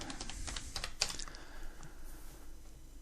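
Quick bursts of keystrokes on a computer keyboard as a name is typed in, close and fairly quiet, bunched in the first second and then thinning out to a few scattered taps.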